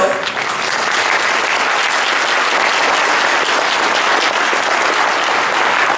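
A forum audience in Rocklin applauds the candidates with loud, dense applause from a sizable crowd that stays steady and close throughout.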